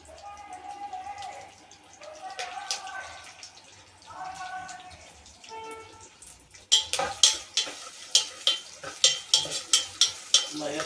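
Chopped onion sizzles in hot oil in a pan for Ugadi festival cooking, with a spatula stirring in a quick, steady scraping rhythm that grows loud partway through, after a stretch of talking over a gentle fry.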